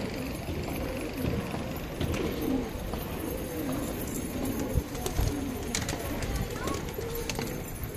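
A flock of Hyderabadi pigeons coos in low, overlapping throaty calls, close and continuous over a busy outdoor murmur.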